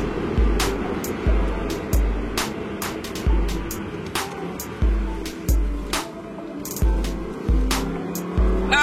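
An Audi R8 RWS at Le Castellet circuit revs hard at full throttle from inside the cabin, repeated surging engine pulls and gear changes with sharp clicks, loud and close throughout.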